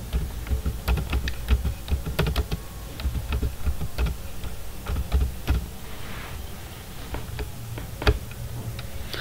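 Someone types on a computer keyboard in uneven bursts of crisp, close key clicks that carry on steadily for several seconds with no speech.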